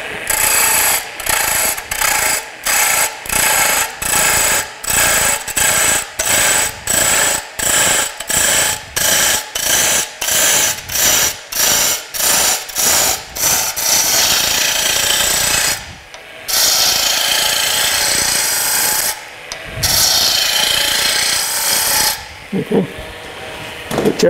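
Bowl gouge with a swept-back wing grind cutting wood on a lathe while turning a tailstock handle extension, loud and close, a rhythmic series of rasping scrapes in quick regular strokes, then longer continuous cuts with short pauses.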